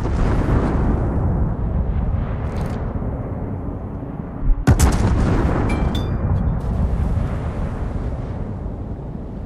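Naval artillery fire from warships in World of Warships, with one deep blast breaking through a constant low rumble of sea and engine noise, followed by a few fainter reports, loud and close.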